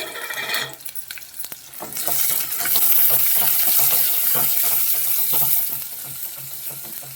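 Onions, dried red chillies and curry leaves fry together in a pan, heard as a steady sizzle broken by repeated scraping and stirring clatter, loud and close with no talk.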